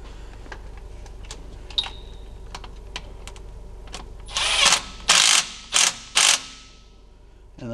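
Ratchet tightening a bolt on a cooler line of a 2020+ Ford GT500 DCT transmission, faint clicks at first, then a few loud, close bursts of rapid ratcheting with short pauses between.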